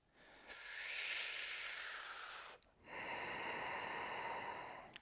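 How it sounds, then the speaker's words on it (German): Two long, forceful exhalations through the mouth during a Kundalini yoga breathing exercise, each a loud, breathy rush of air lasting a couple of seconds, separated by a brief pause, with no talking. "dann kannst du auch gerne durch den Mund ausatmen und kraftvoll durch den Mund aus"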